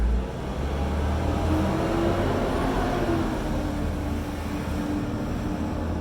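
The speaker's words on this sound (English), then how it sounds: "Loud recycling truck." A loud recycling truck rumbles past outside an open window, a heavy low engine drone that stays steady and close for several seconds with a faint whine rising over it.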